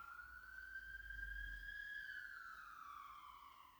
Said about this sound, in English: You don't hear sirens that often.